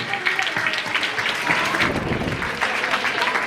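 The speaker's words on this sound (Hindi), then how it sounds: "तमाम बच्चे जोरदार तालियां बजाई जाए।" Children at a boys' school annual day applaud a guest's arrival, a dense, loud burst of many hands clapping that holds steady throughout, with faint voices mixed in.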